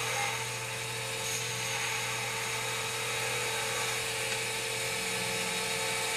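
A wood lathe spins steadily as a skew chisel rounds over the shoulder of a tenon, producing a continuous high whine with a faint scraping hiss that holds evenly throughout.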